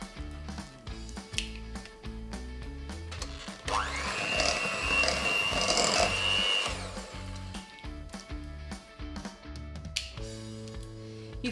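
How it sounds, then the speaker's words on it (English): An electric hand mixer whirs for about three seconds as it beats eggs into eclair choux dough, a buzzing motor hum rising over soft background music that plays before and after. "You can beat that all together with a wooden spoon, but using an electric mixer is so much quicker and easier."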